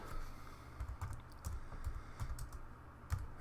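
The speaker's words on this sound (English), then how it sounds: "Then you type in your name." A name is typed on a computer keyboard, with quiet, irregular key clicks in short clusters heard close by and no speech.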